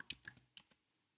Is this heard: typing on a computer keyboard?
yes